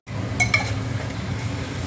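Mutton being stirred in a cooking pot for yakhni pulao, a spoon scraping and clinking against the metal twice over a soft steady sizzle, close and moderately loud.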